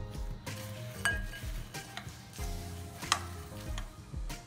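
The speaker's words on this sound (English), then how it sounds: "Now I'll add in the cashews and give it a mix again." Cashews are stirred into a thick no-bake brownie mixture, with a spoon knocking and clinking against the bowl in irregular strokes over low, muffled scraping.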